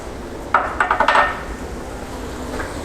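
A spoon stirs crawfish étouffée ingredients in a pot, making a quick run of clinks and knocks against the pot over about half a second, followed by near silence.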